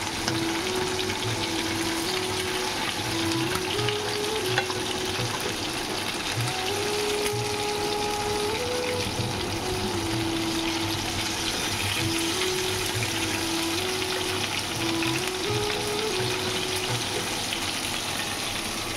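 Chicken tandoori pieces fry in light ghee and cooking oil in a kadai, giving a steady, loud, continuous sizzle with no break and no talking.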